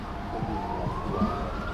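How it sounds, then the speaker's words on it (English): Police and ambulance sirens on a Warsaw city street near Warszawa Centralna station: a rising wail sweeps upward through steady, dense street noise, moderately loud and somewhat distant. "police sirens, ambulance sirens."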